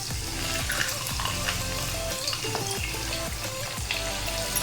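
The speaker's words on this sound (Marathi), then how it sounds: "तर आता आपण फ्राय करून घेऊयात।" Potato cutlets fry in very hot oil, a steady close sizzle and crackle running through the whole stretch with occasional light scraping, no voices.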